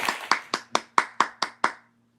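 Eight slow, evenly spaced hand claps, close and crisp, then silence; a single person clapping rather than a crowd.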